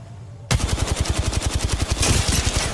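Rapid automatic fire from the MK gun in Apex Legends, a loud, steady burst of about twenty evenly spaced shots that starts abruptly after a half-second of quiet and keeps going to the end, with no talk over it.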